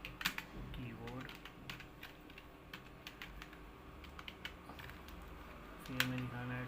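Keys on a computer keyboard clack in uneven bursts while a spreadsheet is filled in, close and fairly quiet, with someone speaking Hindi over the typing.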